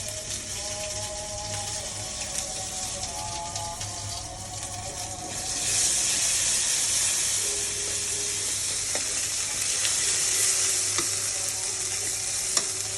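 Taro stolons fry in a little oil in a pan, a steady close sizzle that swells louder midway and holds, with occasional stirring scrapes and no talk.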